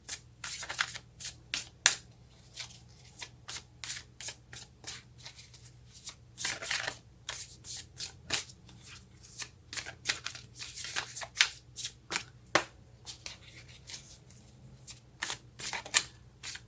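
Tarot cards are shuffled over and over, a steady run of quick, quiet riffling flutters and soft taps for the whole stretch.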